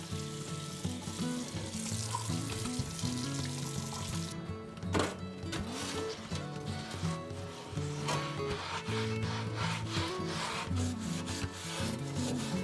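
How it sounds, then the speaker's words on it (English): A cast iron pan being scrubbed under hot running water with soap, a steady close rubbing and scraping against the metal mixed with splashing water, continuous throughout with a few sharper knocks and no talking. "I'm gonna get it washed with hot water, soap, and just get it really scrubbed up."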